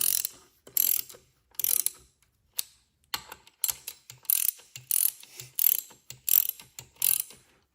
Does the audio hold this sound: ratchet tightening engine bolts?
yes